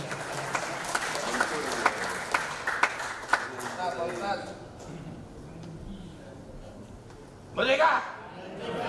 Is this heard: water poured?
no